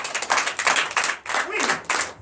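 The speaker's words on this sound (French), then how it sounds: "Donnez l'acclamation à Jésus." Churchgoers at a French-language Sunday service clap together in loud, rhythmic bursts with short gaps between them, while voices call out over the clapping.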